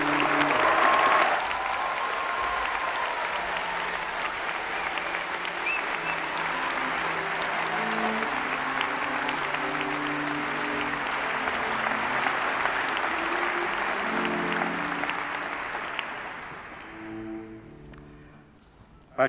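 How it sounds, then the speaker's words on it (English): Steady audience applause for graduates at a university commemoration day ceremony, sustained crowd clapping with faint music underneath, lasting most of the stretch before fading out. "Please join me in a round of applause to the graduates."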